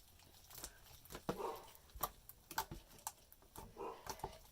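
Purple slime with foam balls in it makes soft, faint clicks and pops as it is pressed. They come close up at an uneven, patting rhythm, with no talking.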